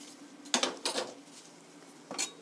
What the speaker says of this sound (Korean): 이렇게 해서 커버, 뚜껑을 덮으시고요